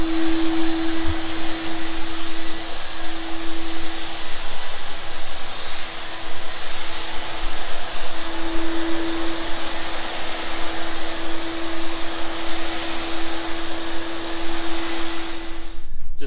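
A spray gun lays Plastidip in avalanche gray base over a Jaguar XJL, a steady, loud, unbroken airy hiss with a constant tonal whine that runs for about sixteen seconds before cutting off at the end, with no talking.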